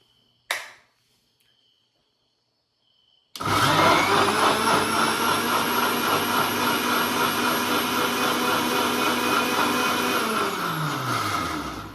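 A new electric mixer grinder blends sugar, starting after a brief click and quiet pause into a loud, steady high-pitched whirring roar that holds for several seconds before winding down at the end.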